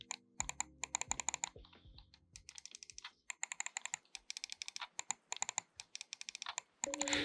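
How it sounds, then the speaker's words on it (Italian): Rapid plastic clicks from the scroll wheel of a Corsair Ironclaw gaming mouse come in quick bursts and runs of notches, close and fairly quiet, with short pauses between spins and no speech. "ascoltate bene il click della rotellina. Adesso vi faccio sentire l'Ironclaw."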